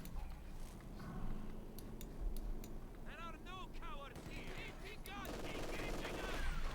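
Bursts of MG42 machine gun fire in the World War II strategy game Company of Heroes 2, in a Wehrmacht versus Soviet match, rattling through a busy battle mix beneath continuous commentary.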